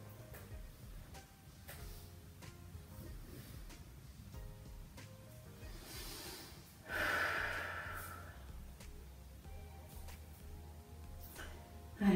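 A long audible exhale during post-run stretching at home, a soft breathy rush that rises in the middle of the stretch over a faint ticking background and quiet music.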